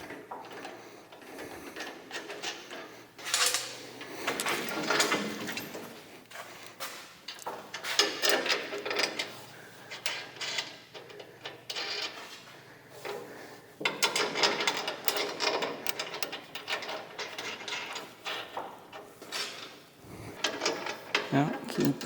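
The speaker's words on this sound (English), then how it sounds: "now we just go through each one of these and get the nuts put on them before we tighten them up" Metal nuts are threaded by hand onto carriage bolts while a rubber cut edge is fitted to a MUSKOX 26-84 snowblower, giving a steady run of close, small clicking and rattling mechanical sounds that varies in loudness.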